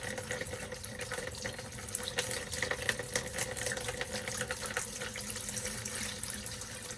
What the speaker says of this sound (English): Pour water a lot up and down up in there.